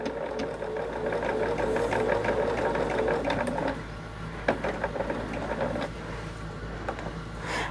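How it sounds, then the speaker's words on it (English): Sewing machine running in steady rapid bursts as quilt block pieces are stitched together along a quarter-inch seam, fairly close and continuous, with a brief pause and softer stitching toward the end. "And we're just going to sew this together."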